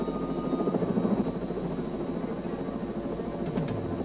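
Helicopter rotor and engine drone, a loud continuous throbbing whir that holds steady close by throughout, with no speech over it.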